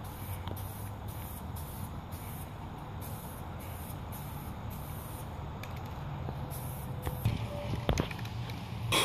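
Second coat of spray paint on a Toyota Celica bumper, a faint hissing spray in regular short bursts with a few louder knocks near the end.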